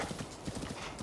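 Wild horse hooves while riding in a video game, a quick rapid run of soft clip-clop beats over about a second, fairly close and steady.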